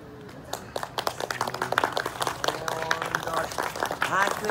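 Audience at a monkey performance show at Asakusa Shrine applauding, a scattered crowd clapping that builds and continues steadily, with someone talking over it.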